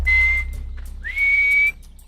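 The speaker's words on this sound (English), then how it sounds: "Those at the camp are now whistling to reach out to their friends" Two long, clear human whistles from Hadza people signalling friends at a camp, the second rising then held, with a low rumble in the background.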